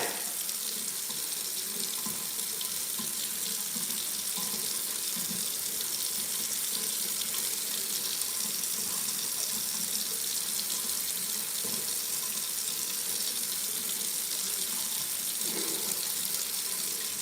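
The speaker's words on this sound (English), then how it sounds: "I love running water." Water running steadily from a sink tap, a continuous close hiss and splash that holds an even level throughout with no pauses.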